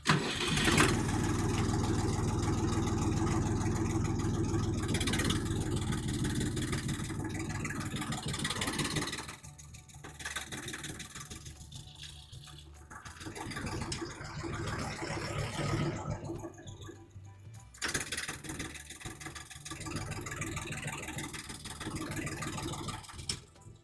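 KENTAVR 244 SX mini tractor with large wheels, engine cranking and catching, then running steadily loud and close with a droning mid-pitched rumble, dipping and surging as it drives off, no talk over it.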